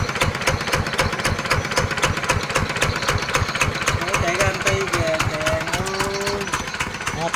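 A Mitsubishi D75 engine, missing a bolt, idles smoothly up close with a steady, rapid, even thumping, while someone talks and laughs over it.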